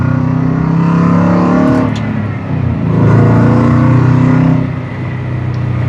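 A 2022 Revology Shelby GT350 sports car engine runs loudly and steadily on a test drive, its droning pitch swelling and easing a few times as it revs, close by and with no voices.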